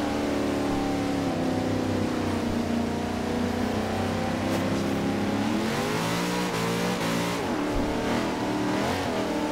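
Car engine revving at full throttle in a drifting video game, a steady loud continuous roar with pitch rising and dipping.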